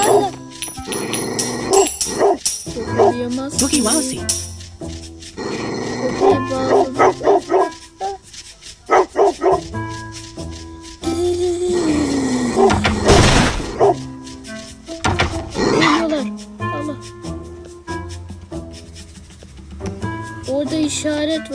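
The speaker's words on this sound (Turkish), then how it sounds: "Orada köpek var." Cartoonish dog barks and yips from the stealth game RobberyBob 2, popping up repeatedly over game music and effects while someone talks over much of the play.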